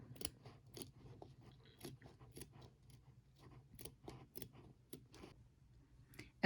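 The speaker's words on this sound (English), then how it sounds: "here I am just trimming up my fabric" Scissors snip fabric for a shirt appliqué, quiet repeated crisp cuts in an uneven rhythm, close up over a soft machine hum.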